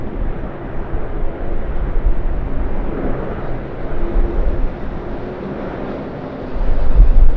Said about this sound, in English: the Boeing 747-8 into the skies